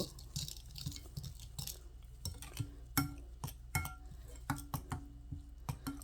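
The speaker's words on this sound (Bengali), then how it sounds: "আর দিলাম সাদা তিল এখন ভালো করে মিক্স করে নেব" Snack batter with white sesame seeds gets mixed by hand in a bowl, giving irregular close clicks and soft clinks of utensil against the bowl over a quiet background.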